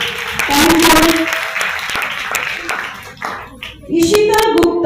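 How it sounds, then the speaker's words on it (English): Children at a school scholarship ceremony clap for prize winners, bursts of bright, close handclapping that fade midway and then swell again, with children's voices mixed in. "Children, please applaud them."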